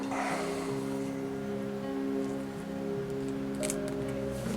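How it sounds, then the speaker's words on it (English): Scissors snip arrow fletching feathers, a few soft close cuts over a steady hum of background tones. "I have to use the scissors on it."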